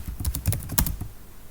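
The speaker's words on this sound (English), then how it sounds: "this user might continue typing b equals 1a plus 1" Rapid typing on a computer keyboard, a close burst of distinct clicky keystrokes in quick uneven rhythm that thins out toward the end.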